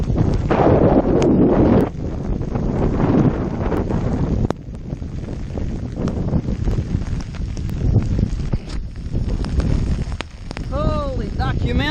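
Strong gusting wind buffets the microphone on open water from a Hobie Pro Angler 14 kayak, a loud continuous roar that swells and eases, with someone talking over it.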